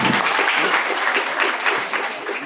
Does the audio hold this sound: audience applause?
yes